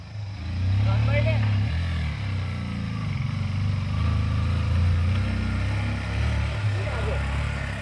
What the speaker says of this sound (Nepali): कसको खट्टारे बाइक हो त्यो